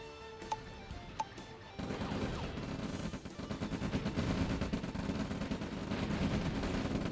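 Anti-aircraft gun fire in the real-time strategy game OpenRA Red Alert, a rapid run of sharp repeated shots building into a dense rattling barrage after a quieter opening with a couple of isolated pops.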